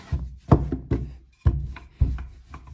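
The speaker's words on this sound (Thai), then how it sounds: "จากนั้นก็หั่นเป็นชิ้นเลยค่ะ" Five sharp knife strokes chop through soft potato gnocchi dough on a board, landing in an uneven rhythm at close range with brief pauses between cuts.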